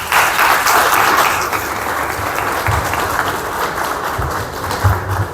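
Sustained applause from a crowd, loud and steady at first, then thinning slightly before swelling again.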